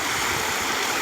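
Waterfall and stream water rush steadily at Malanggad, a dense, continuous close roar of falling and flowing water with nothing else audible.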